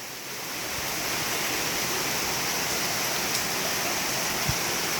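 Rain falls over a farm field, a steady, dense, even hiss with no break and no voices, close and moderately loud throughout.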